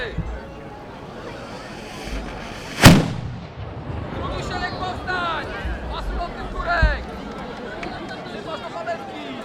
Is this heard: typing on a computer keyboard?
no